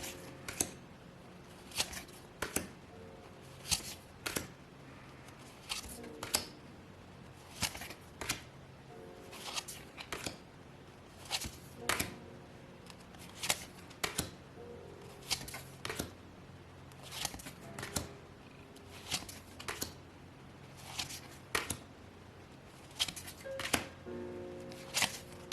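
Oracle cards being shuffled by hand in repeated bursts of crisp riffling and flicking, each burst a second or two long with short pauses between, close and fairly quiet, with no talking.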